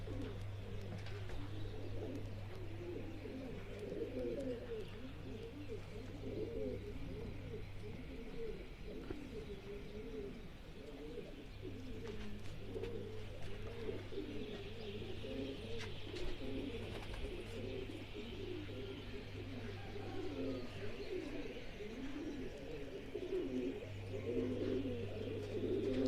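Soft, low cooing from pigeons repeats steadily throughout, with a steady low hum underneath and faint birds chirping in the background.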